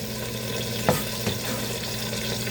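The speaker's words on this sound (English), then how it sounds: "drop my chopped onions" Chopped onions dropped into a hot pan for a pork stir fry, giving a steady, close sizzle with a couple of brief stirring clatters, no talking.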